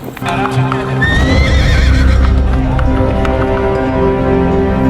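A horse neighs loudly over the steady clip-clop of hooves on a street in Dapitan City, Philippines, with a bustling outdoor crowd in the background.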